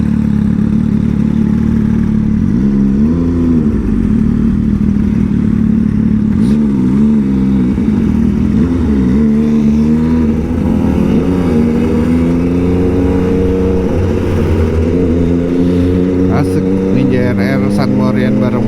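Big motorcycles revving alongside an old Kawasaki Ninja RR 150, a loud continuous engine drone rising and falling in repeated throttle blips close by, with voices mixed into the roar.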